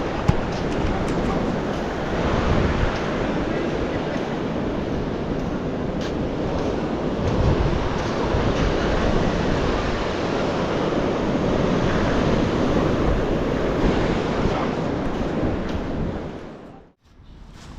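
Calm sea washing onto a seashore makes a steady, full broadband roar of surf that holds level for the whole stretch, with no voices, and dips briefly near the end.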